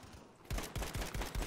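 Rapid automatic fire from the SML gun in Battlefield V: a tight burst of close, punchy shots in a steady rhythm, starting abruptly after a brief quiet moment.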